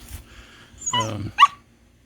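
A dog barks for a ball to be thrown, a couple of short close barks and a yelp, loud against a quiet backyard.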